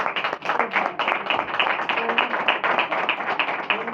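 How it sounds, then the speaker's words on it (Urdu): A church congregation claps loudly and steadily during an Urdu-language sermon, a dense, continuous patter of many hands lasting several seconds with no voice over it. "زوردار تالیاں بجائے"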